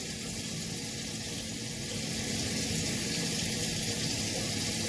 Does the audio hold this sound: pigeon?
no